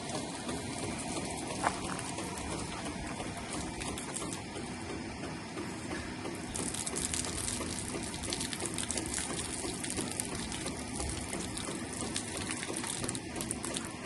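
Purified bore water pours from the outlet of a multigrade iron-removal filter in a steady, faint gushing flow that thickens slightly partway through, with no voices.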